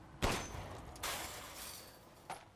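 Three sharp gunshots in the video game Resident Evil Village, spaced apart over a few seconds, with the first the loudest and each trailing off into a short echoing decay; no talk.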